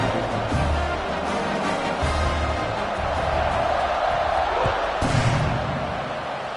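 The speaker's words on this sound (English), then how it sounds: "this crowd is buzzing after that last score" A stadium crowd keeps up a steady, dense buzz at a College Football 26 game after a score, loud and continuous with a brief swell near the end and low thumps underneath.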